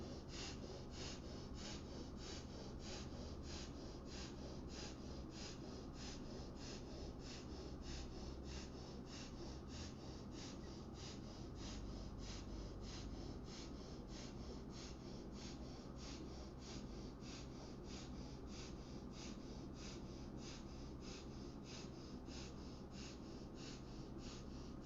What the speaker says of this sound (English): Let's do a little bit of Kapalbhati here.